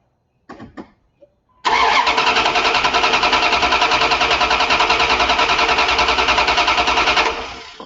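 A car engine being cranked during a starting system check: after a few clicks and thumps, the starter spins in a loud, rapid, even churning for about six seconds, then trails off without the engine catching.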